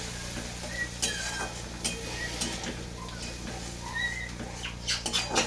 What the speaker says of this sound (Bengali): আমি মশলাটা দিয়ে দেবো পেস্ট করা মশলাটাকে দিয়ে দেবো এভাবে কষে নেবো মশলাটাকে